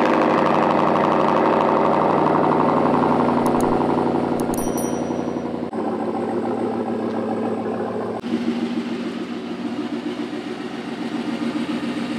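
A GMC Sierra AT4 pickup's engine runs steadily in cold winter weather, a close, continuous rumble with an even drone and no one speaking.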